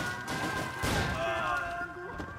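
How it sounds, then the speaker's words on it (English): Shotgun fire in Max Payne 3: one loud, close blast near the middle of a short stretch of steady game ambience, then a fading tail. "I'm gonna aim shotgun."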